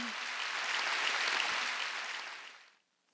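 A church congregation at a Korean Wednesday worship service bursts into full, dense applause that holds steady for over two seconds, then quickly fades away into near silence.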